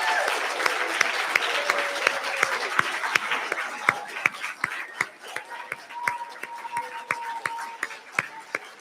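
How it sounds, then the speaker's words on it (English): Family and friends of pediatrics resident and fellow graduates give a sustained round of applause at a medical school graduation ceremony, a dense steady patter of many hands clapping with a few sharper claps standing out. "please stand for a round of applause"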